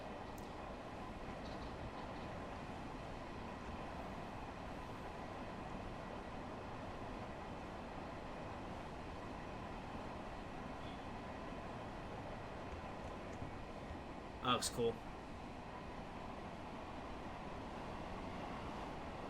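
A Metro North M3 commuter train on the Harlem Line in Train Sim World 5 runs with a steady, continuous rumble and rolling noise throughout, with a brief louder clank near the end and one short spoken remark.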